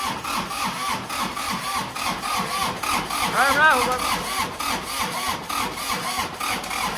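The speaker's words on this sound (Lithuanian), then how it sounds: "Čia yra vlogo žvaigždėtas traktorius" A farm tractor engine chugs in a steady, rhythmic pulse close by, with a brief voice rising over it partway through.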